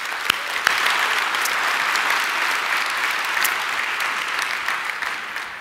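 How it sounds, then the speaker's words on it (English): Sustained applause from a large conference audience at a tech keynote, dense and steady throughout with a few sharper claps standing out, no talking over it. "So let's give them a big round of applause."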